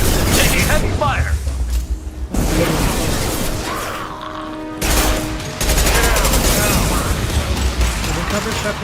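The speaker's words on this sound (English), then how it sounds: "Taking heavy fire." Heavy gunfire in the Mass Effect video game, dense bursts of shots and impacts crowding the mix with a brief drop-out in the middle, sustained and loud throughout.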